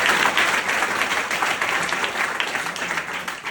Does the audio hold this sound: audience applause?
yes